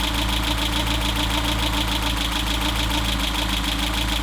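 A 1992 Renault Trafic engine idles during an LPG conversion with cylinder 1 switched over, a close, loud, steady running note with a rhythmic pulsing throb and no talk.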